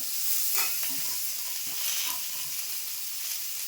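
Finely chopped onions go into hot oil with cumin and a bay leaf, giving a soft, steady sizzle with light stirring scrapes, quiet and close, with no voices over it.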